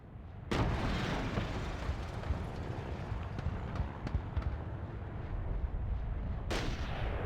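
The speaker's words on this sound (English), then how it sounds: "Yeah, no, it's the tank. I just didn't see the shots earlier." A tank fires repeated shots in the stealth game Splinter Cell Chaos Theory, heavy booming blasts over a dense, rumbling battle din that starts abruptly and continues for several seconds with sharp transient cracks scattered throughout.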